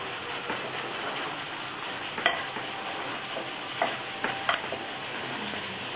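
Mutton curry with chili powder being stirred in a pan, a steady low sizzle with a few sharp clinks of the spoon against the pan, close and alone without talk.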